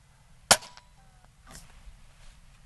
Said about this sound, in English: Let's just shoot a couple here.